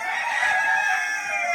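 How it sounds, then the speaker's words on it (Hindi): Roosters and hens on a farm give a steady, near chorus of clucking and crowing, with no breaks and no talk over it. "यहाँ पे है सारे में मुर्गा मुर्गी सब है।"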